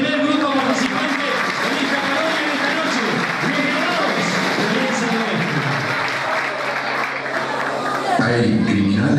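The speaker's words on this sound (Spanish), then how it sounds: "Fuerte y caluroso aplauso para el primer grupo participante." Audience applause with a crowd cheering for a student sketch group at a school competition, dense and sustained over nearly the whole stretch, dipping briefly near the end.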